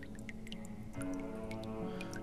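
Water drips from a shower tap in The Last Door video game. Faint, sparse droplet plinks fall over a low, steady ambient hum, with no talking.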